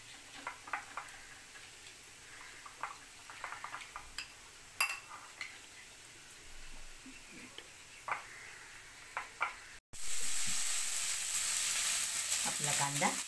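Onion sautéing with Kashmiri chilli powder and garam masala for dahi bhindi. Light clicks and spatula scrapes come first, then a loud, continuous sizzle bursts up near the end.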